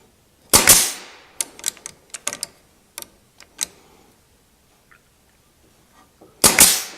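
A nail gun drives 16 gauge brads into wood, sharp pneumatic snaps with hissing air bursts at the start and end and a quick run of lighter clicks and taps between, close and alone in a quiet shop.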